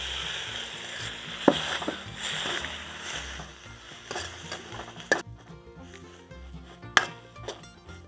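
Tomato frying in a pan with onion for kothu parotta: a soft sizzle under clanking spatula strikes and scraping stirs against metal, with a few sharp knocks standing out.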